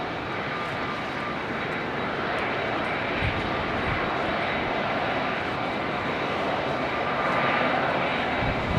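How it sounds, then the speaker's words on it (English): An SAS jet airliner approaches to land at London Heathrow, its engines producing a steady, broad roar that holds at moderate distance throughout with slight swells, without any talk. "is this SAS jet going to sneak in between these two"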